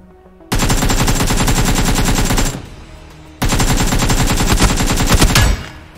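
Automatic gunfire in PUBG New State: two long, loud, continuous bursts of rapid shots, each about two seconds, separated by a short lull.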